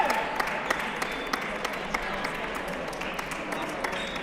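A family cheers and applauds at a table tennis championship final, with scattered claps and crowd noise at moderate distance, steady and fairly faint.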